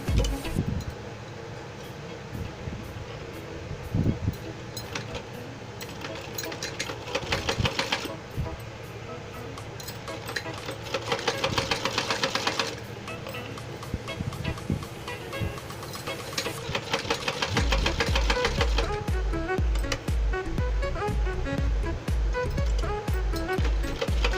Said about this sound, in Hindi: देखिए मैं सिलाई लगा रही हूँ।